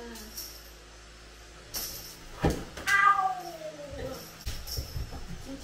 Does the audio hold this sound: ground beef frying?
no